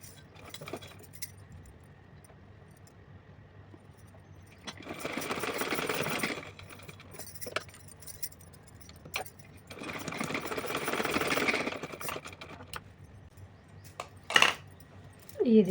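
A sewing machine stitches a small nighty for a Kanha ji doll in two short, fairly quiet bursts of rapid whirring, separated by pauses with soft handling noises and light clinks of small metal parts.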